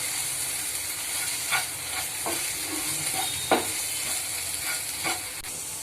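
Amaranth curry with gram flour gets mixed in a pan under a constant bright hiss of frying, with a few distinct spoon scrapes and clinks landing at irregular moments.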